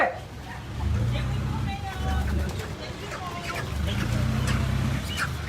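Chickens clucking at a market where a roughly 2-kilo chicken is being sold for adobo, with a vehicle idling nearby, low engine rumble running steadily beneath scattered bird calls and people talking.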